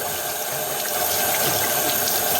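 Hot tap water runs into a kitchen sink while hands are washed under it, a loud, steady splashing gush that holds without pause.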